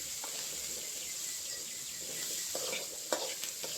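Boiled kabuli chickpeas and curry leaves fry in oil with a steady close sizzle, with occasional scraping stirs and small pops rising above the hiss throughout.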